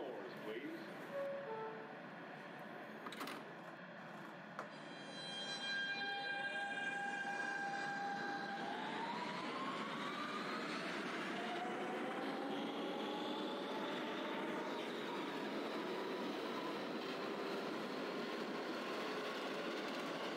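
Simulated R160B Siemens N subway train in the OpenBVE train simulator game, running from Coney Island toward Astoria-Ditmars Blvd: a steady loud rumble of wheels and motors with a rising electric whine as it accelerates, after a short chime and announcement.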